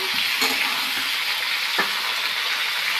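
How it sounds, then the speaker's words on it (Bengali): Vegetables for khichuri fry in a pan, a close, steady sizzle broken by a few scraping stirs over three seconds, with no voices. "এবার এটাকে আমি ভালো করে নাড়িয়ে নাড়িয়ে ভাজা ভাজা করে নেবো একদম"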